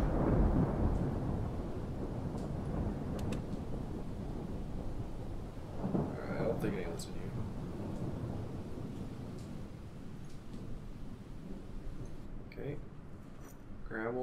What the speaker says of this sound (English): It's a lot of thunder.